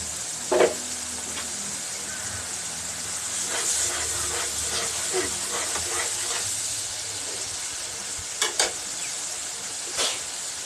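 A small amount of leftover fish-frying oil sizzles softly in a pan with a steady hiss, broken by a few sharp crackles and pops, and occasional scraping clatters of stirring.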